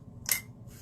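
A single quick snip of scissors cutting paper in a stamping craft studio, one short crisp cut standing out against quiet room tone.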